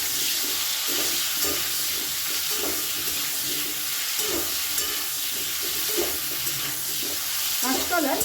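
Green banana pieces seasoned with salt and turmeric fry in a pan, a steady broadband sizzle with soft stirring scrapes and clinks running throughout, close and continuous.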